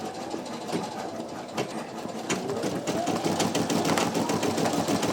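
An embroidery machine stitching out a design, with PE900 and NQ1700E models named, hums and rattles in a dense, continuous rapid patter close by, while a voice is faintly present.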